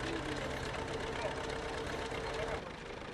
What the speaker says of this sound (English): Eamon's new Fordson is driving the thresher and the baler.